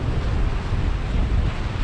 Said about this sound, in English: We've got a northwesterly wind, which is okay. It is coming directly towards us